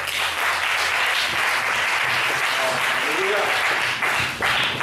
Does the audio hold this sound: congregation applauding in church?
yes